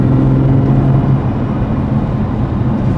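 A BMW F81 M3 Touring wagon is on the move, giving a loud, steady low engine and road rumble with a faint hum and no talking.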